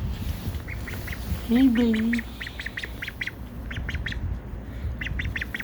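A four-week-old pet duckling quacks in short repeated bursts, with high chirpy peeps scattered throughout, close and clear; a person speaks briefly over one of the calls.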